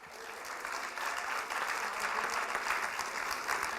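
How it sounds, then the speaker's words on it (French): Audience at a campus diploma graduation ceremony applauding, a sustained wash of many hands clapping that holds steady and swells a little, filling the room evenly without voices on top. "On l'applaudit."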